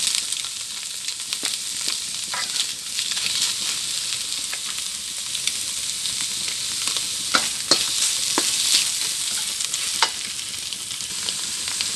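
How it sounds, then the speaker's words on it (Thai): Pork and egg stir-fried in a pan for a pumpkin dish, a steady broadband sizzle with scattered scraping clicks of the spatula, close and continuous with no voices. "แล้วก็ผัดเป็น หมูสุกนะคะ"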